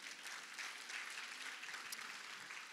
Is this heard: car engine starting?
no